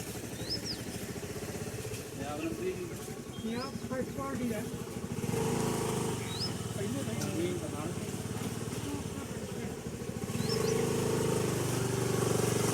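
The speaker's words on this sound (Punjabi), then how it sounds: "ਨਵਾਂ ਟਰੈਕਟਰ ਜ਼ਰਾ ਰਜ ਨਾਲ ਪਿਆ ਜੀ" A 2014 New Holland 3630 Super three-speed tractor with power steering, its diesel engine running at a steady, close rumble throughout, with small birds chirping faintly in the background.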